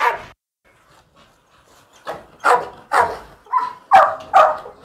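Several dogs in a kennel bark in a series of loud, close barks after a brief quiet start, the barks growing sharper and more frequent toward the end.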